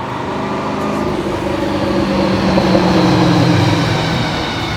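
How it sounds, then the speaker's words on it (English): A drift car approaches on a race track at low speed, a loud steady engine drone with humming tones that swells as it nears and then holds, with no talking. "there is a car coming up by the sounds of it."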